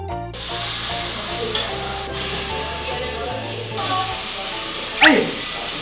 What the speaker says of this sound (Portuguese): Fritar o bife.